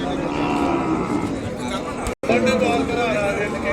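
Cattle, including Ongole bulls and young calves, low amid a busy crowd's chatter at a Sunday livestock market in Kodad, Telangana, with a steady din of voices and animal sounds throughout.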